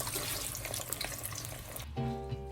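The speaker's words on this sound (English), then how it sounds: "In our 350 degree oil, we will begin to fry the wings." Chicken wings drop into 350-degree oil for buffalo wings, a dense, close hiss and crackle of frying that fills the moment, then cuts abruptly to a quieter steady tone near the end.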